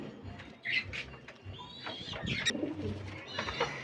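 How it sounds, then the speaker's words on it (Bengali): Caged pigeons let out for morning feeding give soft, repeated cooing calls, close and moderately loud, mixed with fluttering and other bird noises and no talking. "এইবার সব পায়রাগুলোকে ছেড়ে দিই আস্তে আস্তে।"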